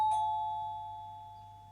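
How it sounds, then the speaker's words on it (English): A doorbell sound effect gives a single clear electronic chime tone that rings on and slowly fades over about two seconds. "It's a doorbell."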